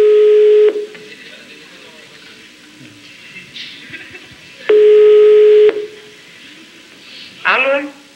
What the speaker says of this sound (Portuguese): Ah, telefone.